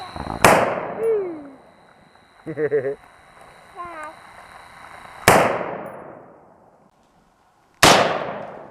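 Three sharp, loud gunshots ring out at outdoor shooting targets, spaced several seconds apart, each with a short echoing tail, while people talk in between.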